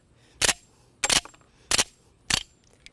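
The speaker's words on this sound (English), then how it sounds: "Take the pistol and cycle it" S&W 945-1 Performance Center .45 ACP pistol slide being racked by hand to cycle empty cases, giving four sharp metallic clacks spaced roughly two-thirds of a second apart, close and crisp against a quiet background.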